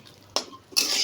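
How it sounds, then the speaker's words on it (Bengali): A spoon scrapes and stirs food sautéing in a cooking pot, with a sharp clatter followed by a louder burst of sizzling and scraping, close and brief with no talk. "এগুলো ভালো করে কষিয়ে নেব।"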